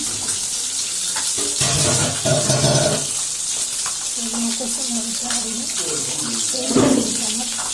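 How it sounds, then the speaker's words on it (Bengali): Shrimp dropped into hot oil in a pan on a gas stove, a steady broadband sizzle and crackle running throughout, loud and close, with a few clinks and brief bursts of louder spattering. "আমি চিংড়ি মাছ তেলের মধ্যে চিংড়ি মাছগুলো দিয়ে দিলাম"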